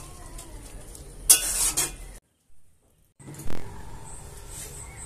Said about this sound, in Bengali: ভেজে রাখা মুসুর ডাল বাটা, খুন্তি দিয়ে ভালো করে নাড়াচাড়া করে নেব